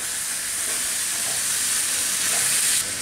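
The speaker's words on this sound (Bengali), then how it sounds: "এখন এটাকে আমার একটু ভেজে নিতে হবে" Minced chicken for an Arabian chicken mughlai paratha frying in a pan, producing a loud, steady, close sizzle with faint stirring scrapes throughout.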